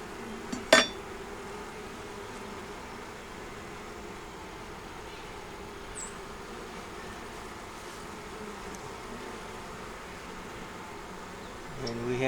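Honey bees in an open hive, with a steady, soft hum of buzzing wings throughout and a brief clink of hive equipment near the start.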